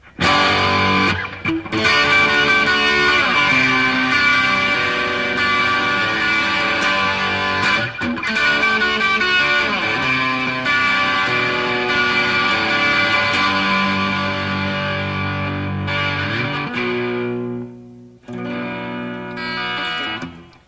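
An electric guitar plays a riff through a small amplifier set for heavy distortion, loud and close, with sustained, gritty chords that ring out, a brief break, then resume; no voices.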